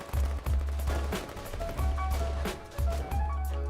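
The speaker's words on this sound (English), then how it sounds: "I'm gonna shoot you with my shotgun" Shotgun fire in a video game, heavy booming blasts at an uneven rhythm, about six or seven loud shots close up with short gaps between them, and no talking.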